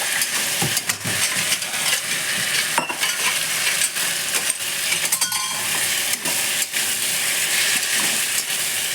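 Pre-fried potatoes go into a sizzling pan for an omelette curry, with loud close frying hiss and repeated clattering stirs and scrapes of a utensil against the pan, and no talking.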